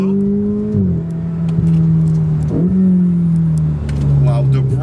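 A Ferrari 488 GTB's 3.9-liter bi-turbo V8 revs loudly and steadily, its tone climbing and dropping through several gear changes, with a throaty roar close up.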